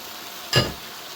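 Chopped red and green peppers and fresh green chilli hit a hot pan for a chicken jalfrezi, giving one short, sharp sizzle with a faint clink, then a soft lingering hiss.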